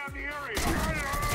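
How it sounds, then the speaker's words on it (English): A shotgun blasts in the Bullet Train VR game, one loud, close burst that hits hard, while a voice talks over it. "Shotgun."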